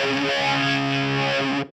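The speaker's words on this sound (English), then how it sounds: "Now let's hear our tone with the phaser." A distorted electric guitar in a rock tone, run through a phaser on a Line 6 Firehawk FX or AMPLIFi modeler, rings out a sustained chord with a swirling, sweeping shimmer before cutting off abruptly.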